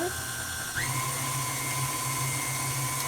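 A stand mixer kneads sticky ciabatta dough on speed 4, with a loud, steady motor whine whose pitch climbs as it spins up and then holds, close and continuous.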